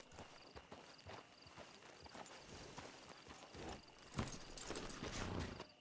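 Horse hooves clip-clopping in Red Dead Redemption II, a steady walking rhythm of distinct hoof strikes on hard ground, fairly close but quiet, with soft ambient background.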